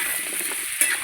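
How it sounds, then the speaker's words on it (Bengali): Potatoes and onions fry together in a pan with salt, giving a steady close sizzle and crackle that is briefly louder near the end. "আলু আর পেঁয়াজ একসঙ্গে আমি ভেজে নেব"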